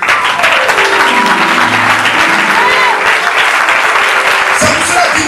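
A church congregation applauds in a loud, dense wash of clapping that runs steadily throughout. Voices cheer and call out within the applause.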